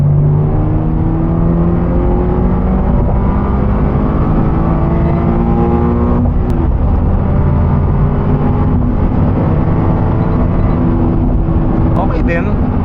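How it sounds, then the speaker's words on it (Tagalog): New Subaru BRZ / Toyota GR86 accelerating hard in third gear, a steady loud engine drone rising in pitch from inside the cabin for over ten seconds, with no one talking. "Let's try the third gear pull."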